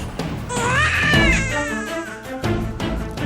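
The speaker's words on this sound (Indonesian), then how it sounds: "Itu suara bayi." An infant cries in loud, rising wails with a few short breaks between sobs, close and clear.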